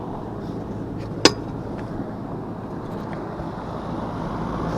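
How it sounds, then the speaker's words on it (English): Blower motor of a package AC unit, one that trips its breaker, running as a steady airy rumble and whoosh, close and continuous, broken by one sharp brief click partway through, with no talk. "Blower motor's on."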